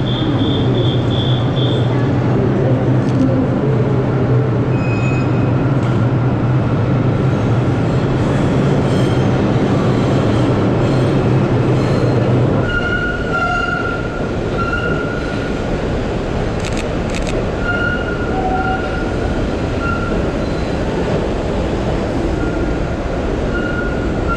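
A train moves through a station with a steady, loud rumble of wheels on rails, high squeals and tonal whines appearing partway through, and no talking.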